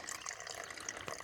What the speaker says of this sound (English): Filtering the creek water.